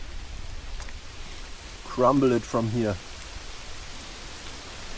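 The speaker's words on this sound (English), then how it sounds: "There comes the rain." Steady rain patters on surfaces around an autumn campsite as a close, even hiss, with a short stretch of talk in the middle.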